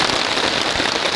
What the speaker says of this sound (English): It is raining crazy hard out there.